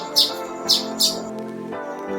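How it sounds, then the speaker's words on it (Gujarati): A baby sparrow chirps while being fed at a temple: three bright, close chirps in quick succession, then softer calls, over a steady low background hum. "તો જો મિત્રો અમારી ચકલીનું બચ્ચું ધરાઈ રહ્યું છે."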